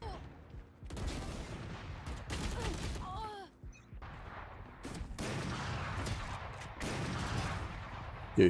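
Gunfire in the video game Valorant rattles in several bursts amid game effects and footsteps, fairly quiet overall, with faint talk mixed in.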